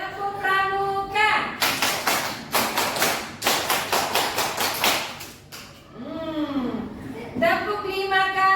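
Children doing the rhythmic scout clap, tepuk pramuka, in a classroom: loud group clapping in bursts, with pauses between sets. Sung or chanted voices come before and after.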